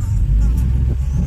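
A car rumbles with a deep, steady engine drone as it drives onto a highway, close and loud from inside with road noise and no distinct speech.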